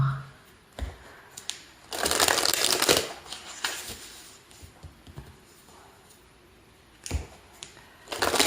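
Tarot cards shuffled by hand for a love reading: papery riffles and soft slaps in irregular bursts, close and fairly quiet, with a few louder flurries.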